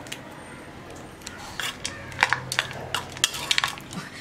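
Idiyappam being mixed with salt and coriander leaves, close, irregular clinks and scrapes of a spoon against a metal vessel that grow busier and louder partway through, with no talk.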